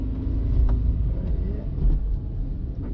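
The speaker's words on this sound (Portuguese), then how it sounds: "Agora acelera pra passar a segunda." A learner's car engine rumbles steadily in low gear during a driving lesson, building slightly as it accelerates before the shift to second, with a few faint clicks above the continuous low drone.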